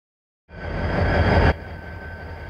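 A Keokuk Junction Railway train hauled by GP-20 locomotives rumbles across a bridge, a steady low roar of engine and wheels that swells in after a moment of silence and then settles to a slightly quieter drone.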